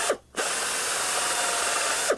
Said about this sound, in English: we're going to drill this in